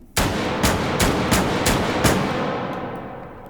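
Shotgun with an extendable stock fired in the VR game Hot Dogs, Horseshoes and Hand Grenades: six loud, sharp blasts in quick, evenly spaced succession, each with a short crack and tail, ending in a fading ring with no voices.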